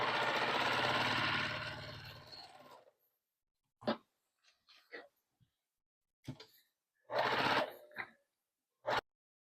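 A sewing machine hums in a steady burst while quilting around the perimeter of a wall hanging, then stops after about three seconds, leaving scattered quiet clicks and short handling noises.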